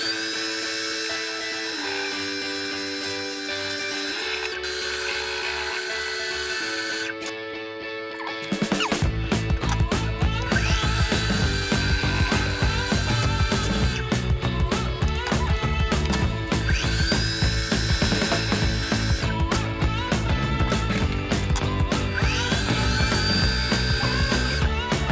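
A lathe bores out the inside of a coin ring, starting with a quieter motor whine before the tool engages and then a loud, sustained harsh cutting screech with shifting tones that runs steadily to the end, with no talking.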